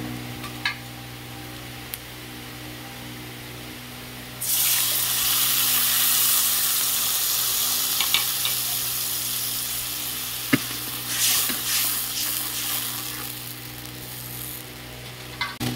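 Ground spice paste frying in a pan with softened onion and garlic for patol sundari, with a low sizzle that bursts into a loud hiss as the paste goes in, then settles and flares again.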